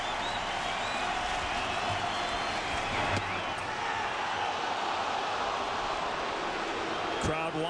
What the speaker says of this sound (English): Crowd wanted it, didn't get it.